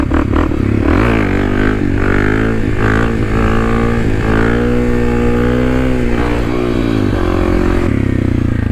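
A Kawasaki KLX 300 dual sport motorcycle revving hard for a wheelie, loud and close, with the engine climbing and falling in pitch over several throttle blips.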